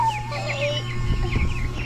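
Chicken clucking nearby in a short series of quick, chirpy calls over a low steady background hum, with no voices.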